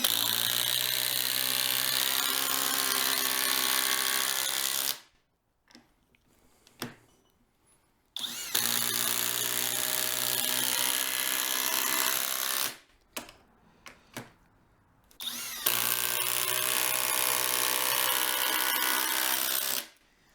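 A FLEX 24V brushless impact driver fitted with a 7/16 inch nut driver hammers in three loud, sustained bursts of rapid impacts, separated by short pauses with faint clicks.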